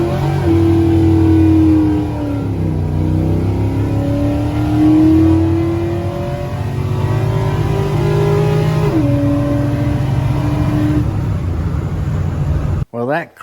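A Trailblazer SS fitted with a Performance Design carbon intake, its engine revving and accelerating with rising and falling pitch through gear changes, loud and close, under occasional talk.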